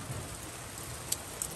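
Heavy rain in a thunderstorm in Maine, a dense steady hiss of falling water with a few sharper drop ticks, close and continuous, with no voices.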